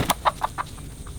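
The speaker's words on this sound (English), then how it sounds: "These are white leghorns." White Leghorn chickens on a farm cluck nearby. Half a dozen short, evenly spaced clucks grow gradually quieter over about a second.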